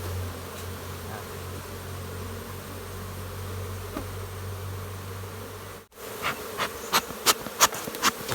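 Bees buzz steadily around a beehive in a bee garden, a close continuous hum that cuts off briefly and then returns as separate passes of buzzing.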